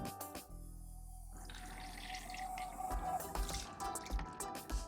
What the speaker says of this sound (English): Now I'm going to add more water.